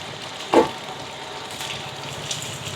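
Adai batter frying in a generous pour of oil in a pan on a home stove, giving a soft steady sizzle with one brief louder pop near the start.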